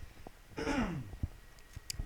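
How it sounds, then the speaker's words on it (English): A single short throat clear, close and fairly quiet, set against a faint background in a room. "Gotta clear my throat."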